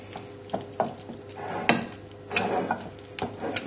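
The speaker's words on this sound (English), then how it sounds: "just with the back of the spoon, just flatten it out to give a nice base" Back of a spoon pressing and scraping cooked mince flat in a pie dish for a shepherd's pie, giving soft wet scrapes and light dull taps against the dish, close and fairly quiet, with no voice.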